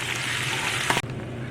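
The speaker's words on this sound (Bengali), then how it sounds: "এবারে আদাটাকে 1 মিনিট একটু ভেজে নেব।" Grated ginger, about an inch's worth, sizzles in hot oil in a pan while cooking a vegetarian raw papaya dish, a steady close frying hiss with a brief stir or clatter near the end.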